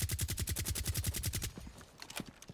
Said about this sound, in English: Suppressor feels so nice on this one, the sound of it.